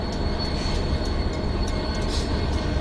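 Locomotives push a string of coal cars in a dense, steady rumble of engines and rolling wheels, with a faint high squeal running above, heard continuously and fairly close.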